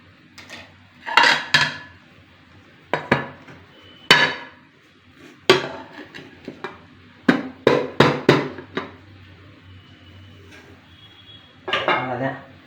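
A cake pan and plate clatter and clink in a home kitchen while a ragi chocolate cake is moved across, giving a dozen or so sharp metallic knocks in irregular bursts with quiet gaps between.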